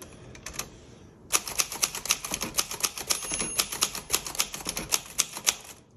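Rapid keystrokes on a 1962 Royal Dart manual typewriter, its carriage stopped, come in a brisk uneven clatter of sharp close strikes after a brief pause, with no voices.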